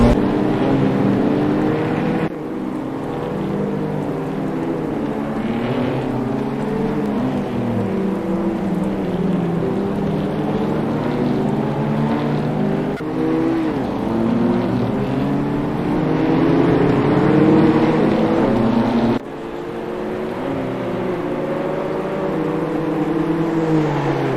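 A BMW M2 CS race car runs a push lap during rainy qualifying at the Nürburgring, its engine droning loud and constant, with brief dips where gears change, heard close up for the whole stretch without voices.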